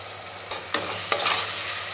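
Chicken biryani with coriander leaves and mint sizzles in a pot, with two sharp stirring scrapes over a continuous close frying hiss.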